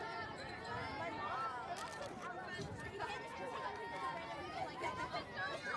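Steady murmur of a crowd chatting at a high school softball game at Bethpage Senior High School, continuous voices blending into a busy background babble.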